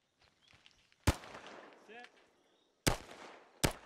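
Three sharp, loud M1911 pistol shots in Arma 3 S.O.G. Prairie Fire, spaced irregularly with a short reverberant tail after each, and quiet background sounds in the gaps.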